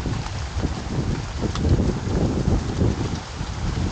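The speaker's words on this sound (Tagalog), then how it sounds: "Nakabot na tayo ng ulan." Rain falling outdoors at a fishing spot, a steady dense hiss of drops with gusty wind buffeting the microphone, close and continuous with no speech.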